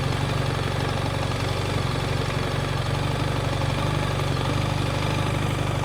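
A motorcycle engine runs at low revs during a slow-speed lean turn, a steady close putter that stays even and continuous throughout, with no talking.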